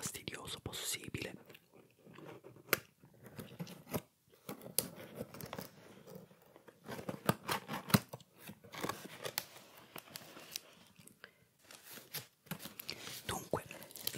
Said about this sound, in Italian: apriamo la scatola e cominciamo ad esaminare il contenuto